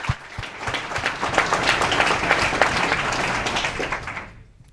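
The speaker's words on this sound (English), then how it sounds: "Can you please give him a round of applause for coming up with this idea?" A round of applause from a crowd at a startup pitch event: dense, lively clapping from many hands that holds steady for several seconds and then trails off near the end.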